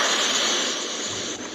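Ocean waves washing onto a beach, a steady broadband surf roar that holds at an even level throughout with no voices.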